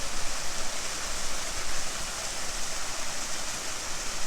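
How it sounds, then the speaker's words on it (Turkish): Kurudere waterfall in Sakarya, Turkey, roars as a steady broadband rush of falling water, loud and close, with no pauses or voices. "Burada güzel bir şelale var."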